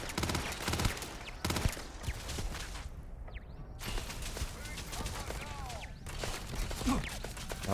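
Automated gun turrets in the video game Starfield open fire in repeated bursts of rapid shots, loud and close, continuing through most of the stretch with brief gaps, while a voice speaks over the gunfire.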